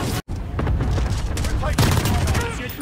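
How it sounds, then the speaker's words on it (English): MG34 machine gun firing in a shooter game's domination mode, dense rapid bursts of loud close gunfire filling the whole moment, with a brief gap near the start and a person talking over the shooting. "I'm playing with the MG34 and let's see how I get on with it."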